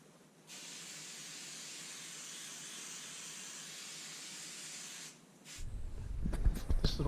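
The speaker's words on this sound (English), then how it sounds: "Let me go and spray this guy down." An aerosol can of cooking spray is sprayed onto a hot cooking surface in one steady hiss of about four and a half seconds. Then comes a louder sizzle with some clatter.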